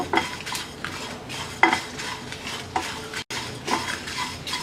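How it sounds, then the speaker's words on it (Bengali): Whole spices including fennel seeds are lightly fried in a pan for a wild jackfruit pickle, heard as repeated scraping stirs of a utensil against the pan over a faint sizzle, no voices. "এক চা চামচ দিয়ে দিচ্ছি মৌরি এবারে গোটা মশলাটা হালকা ভেজে নেব"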